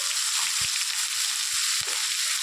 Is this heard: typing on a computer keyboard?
no